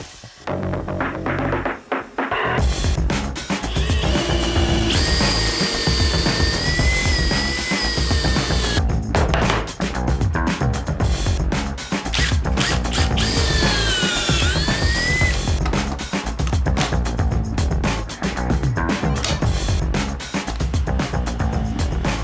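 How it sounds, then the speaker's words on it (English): A drill drives screws into cabinet face frames for a laundry room, its motor whining in two sustained, rising bursts amid continuous loud, dense clatter and noise that fill the whole stretch with no talking. "Cut everything to length and put it together with some screws."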